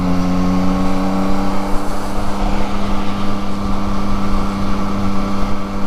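A 2023 Yamaha MT-09 motorcycle is ridden with quick-shifter gear changes. Its engine holds a loud, steady, close drone with only small shifts in pitch, and no one speaks.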